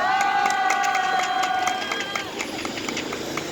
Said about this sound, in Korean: 동지들의 박수와 함성으로